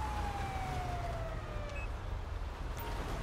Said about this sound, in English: Turn these sirens off.